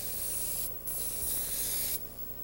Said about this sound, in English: Spray painting is probably the most widespread use of a compressed air system